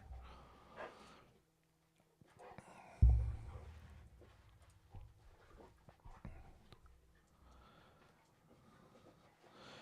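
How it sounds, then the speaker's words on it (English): Dogs roughhousing in the background, making scuffling, panting and snorting noises, with a sudden louder thump partway through, then quieter shuffling and breathing. "if you can hear my dogs in the background"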